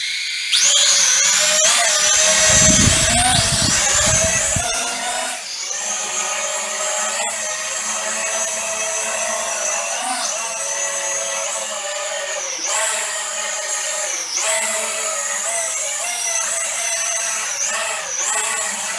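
A small drone whines steadily with a high, wavering motor pitch that rises and falls as it flies toward its little landing pad, preceded by a brief loud rustle at the start.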